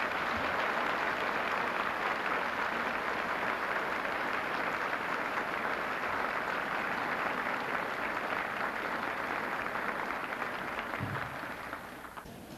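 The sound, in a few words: banquet audience applauding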